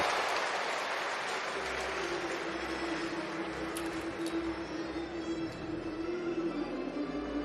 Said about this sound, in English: the crowd tells you who's coming to the plate